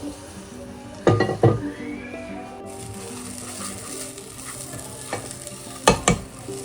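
Rice is fried in plenty of ghee for pulao in a home kitchen. A soft, steady sizzle runs underneath while a spoon scrapes and knocks against the pan in short bursts.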